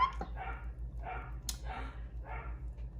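Doberman dogs barking indoors in a run of four or five medium-loud barks spaced about half a second apart, over a steady low hum.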